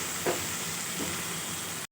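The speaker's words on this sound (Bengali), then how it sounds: "দিয়ে ভালো করে মশলাটা কষিয়ে নেব।" Ginger-onion-garlic-tomato paste with potatoes fries in a pan for a spicy puti fish dish, giving a steady close sizzling hiss with a couple of soft stirring scrapes.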